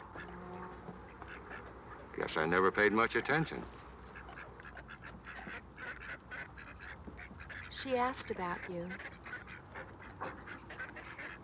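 Geese honk and ducks quack in a city bird sanctuary, with two loud flurries of calls while people talk quietly nearby.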